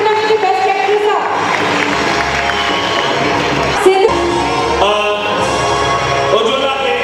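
An audience at a stage event in Sindhu Nagar honours a best actress with a loud, sustained wave of clapping, cheering and shouting, close and crowded throughout.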